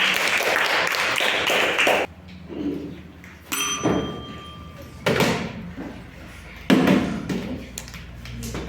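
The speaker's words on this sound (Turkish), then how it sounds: "Alkışlıyoruz." A classroom claps in a short burst of group applause, followed by scattered thumps and knocks and some faint talk.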